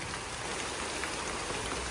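Heavy rain pours down in a dense, constant hiss, loud and unbroken, with no voices.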